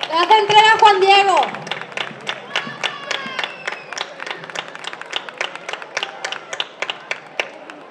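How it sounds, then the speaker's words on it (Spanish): Crowd applause at a town verbena festival in honour of San Paulino, loud and close at first with mixed voices over it, then thinning into scattered, sharp individual claps that carry on steadily to the end. "¡Fuerte aplauso! Le hace entrega a Juan Diego."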